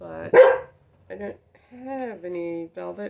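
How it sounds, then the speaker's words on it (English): A dog barks once, a sharp close bark near the start, followed by someone talking. "That was my dog."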